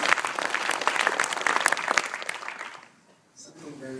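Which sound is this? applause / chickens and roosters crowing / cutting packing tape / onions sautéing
applause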